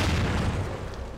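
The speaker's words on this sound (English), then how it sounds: "I still don't understand what this explosion is that keeps happening here." A recurring explosion in the horror video game The Evil Within rolls out as a loud, dense, low rumbling boom that fills the moment without any talk.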